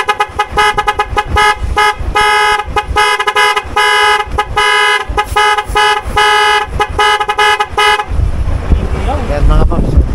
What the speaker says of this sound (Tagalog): Apat na busina nakalagay dyan mga Paps.